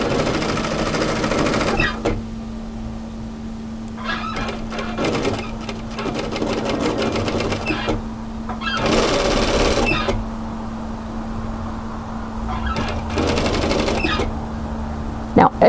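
A sewing machine stitches a seam on a knit edge-to-edge military jacket in several separate bursts of rapid whirring, broken by short pauses and quiet handling.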